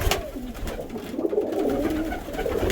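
Domestic pigeons coo softly in a steady, low murmur around a backyard loft feeding setup, several birds overlapping close by with no talking.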